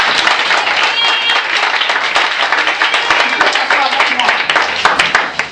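A church congregation applauds and cheers loudly and continuously, with overlapping claps and voices for several seconds.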